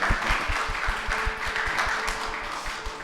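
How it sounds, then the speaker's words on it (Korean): Church congregation at a Korean Sunday worship service clapping to welcome newly arrived visitors, a dense patter of many hands with a faint murmur under it, moderately close and steady throughout. "박수로 환영하고"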